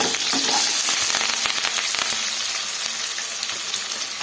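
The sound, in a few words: frying green chillies, curry leaves and onion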